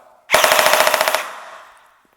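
A modified airsoft pistol on a 7.4 volt LiPo fires one fast full-auto burst of about a dozen sharp, evenly spaced cracks, loud and close, followed by a short fading echo.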